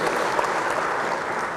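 An audience bursts into dense, loud applause that fills the whole moment without a break, heard close and with no voices over it.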